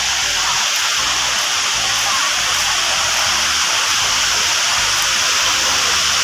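Clear water of a village stream rushing over stones, a constant loud broadband gush with no pauses or voices.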